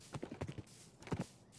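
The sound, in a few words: horse hooves clip-clopping in Minecraft video game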